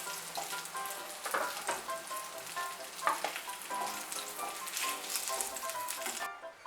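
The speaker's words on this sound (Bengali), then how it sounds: "বেগুনগুলো ভাজা হয়ে গিয়েছে, আমি এখন বেগুনগুলোকে উঠিয়ে নিচ্ছি।" Fried eggplant pieces lifted out of hot oil, with a faint, continuous bubbling sizzle and a few soft scrapes and clinks of a spoon, close but quiet, with no voices.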